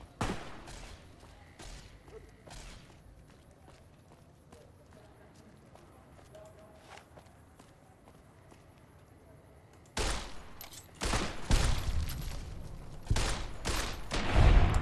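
Gunfire in Fallout: New Vegas on hardcore, very hard difficulty: quiet ambience with scattered faint pops for ten seconds, then a dense burst of loud, rapid shots near the end.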